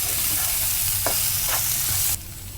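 Okra with turmeric, chilli powder and salt sizzles in a pan while a utensil stirs it in a few scraping strokes, then the frying noise drops off abruptly near the end.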